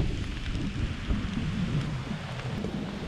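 Steady rain pours onto a 2020 Grand Design camper during a thunderstorm, with low rumbling thunder rolling beneath the constant loud patter throughout.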